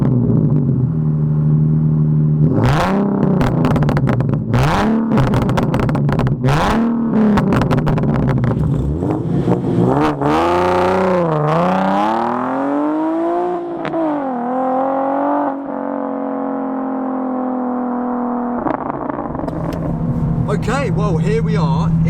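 A Nissan 370Z Nismo starts up with a sharp, loud bark, then is revved repeatedly, the engine note rising and falling in swooping sweeps before settling into a rumbling idle close by.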